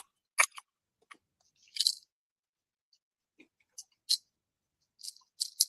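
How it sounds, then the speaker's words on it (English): Chewing gum worked in someone's mouth, a scattered series of soft, close, moist crunching and squishing bites separated by silence, with no talking. "I'm enjoying some chewing gum."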